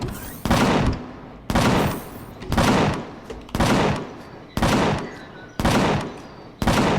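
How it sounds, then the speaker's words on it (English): Bursts of automatic gunfire from a weapon in the space survival game Empyrion Galactic Survival, about six loud sustained volleys spaced roughly a second apart, each with a sharp onset and a brief tail, with no talk over them. "What is he shooting at?"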